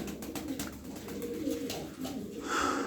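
Soft, low cooing from tumbler pigeons repeats over a steady background murmur, several birds calling nearby.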